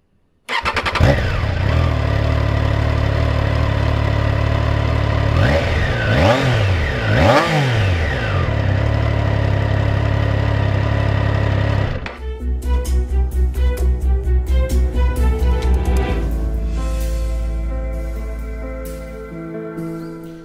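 A Triumph Tiger Sport 660 motorcycle engine runs loud and close, revving up and down in several rising and falling sweeps, then settling into a steady pulsing idle-like throb before fading slightly at the end.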